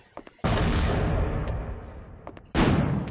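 Grenades explode in Alien Trilogy on PlayStation, two loud, close blasts, each a sudden heavy burst that decays slowly into a roar. A few small clicks come before the first blast.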